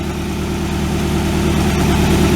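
A 1967 Ford Galaxie with a 289 V8 idles close and steady, a low, lumpy rumble with an even pulsing rhythm and no voices.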